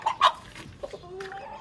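Several short, sharp chicken clucks up close at the start, followed by a softer, drawn-out squawking call.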